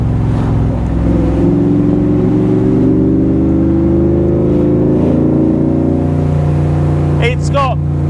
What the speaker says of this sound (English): although they're both V8s, such a different tone. This is so rumbly.